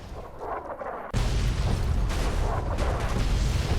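Heavy explosive rumble from bombs going off in Fallout: New Vegas, a deep sustained roar that bursts in loudly after a quieter opening and keeps rolling without a break.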